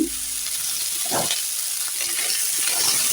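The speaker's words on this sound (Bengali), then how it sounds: "ওই প্যানে আমি সিম আর আলুটা হালকা করে ভেজে নেব" Flat beans and potato pieces frying lightly in a pan, with a continuous gentle sizzle, a couple of stirring knocks and a louder clatter at the very end, no talk.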